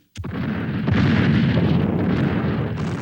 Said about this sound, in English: Communist long-range artillery spearheads the opening attack.